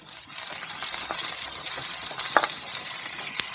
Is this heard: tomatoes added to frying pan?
yes